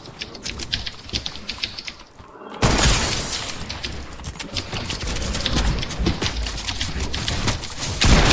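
Rapid gunfire in the video game Fortnite, a fast clatter of shots that rises to a loud, dense burst after a short lull, with sharp impacts and building noise mixed in.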